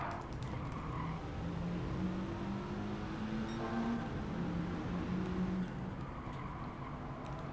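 A four-wheel-drive car racing in Gran Turismo 7, with a steady engine drone and shifting tonal whine that holds at an even level throughout, alone without talk.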